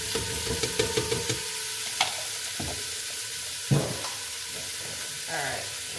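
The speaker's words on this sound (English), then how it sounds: "Alright, and we're gonna saute this up" Food sautéing in a pan for red beans and rice, a steady sizzle with intermittent scraping and clinking of a utensil stirring, close and moderately loud with no talk.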